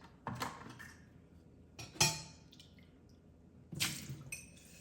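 A soapy biodegradable sponge scrubs dishes in a quiet kitchen, with a few soft wet squishing strokes, light clinks of dishes and drips, fairly faint and close.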